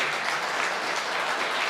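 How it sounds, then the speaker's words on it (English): Audience applause at an evening event, steady even clapping from a crowd throughout, moderately loud and without talk. "Round of applause for Frank"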